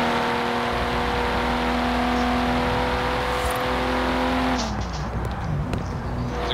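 In the racing video game Forza Horizon 4, a BMW engine drones at high, steady revs, then its pitch drops sharply as it decelerates, with a few clanks and whooshes; no talk.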